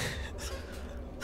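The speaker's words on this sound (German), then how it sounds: "Das ist richtiges Atmen. Tief genau. Einatmen und ausatmen." Deep breaths drawn in and pushed out in a Star Wars: The Old Republic game session, a few soft airy bursts close to the mic over a low steady hum.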